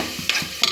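Ginger paste being stirred and fried in a pan, two quick scraping strokes of a spoon over a soft continuous sizzle, close and brief.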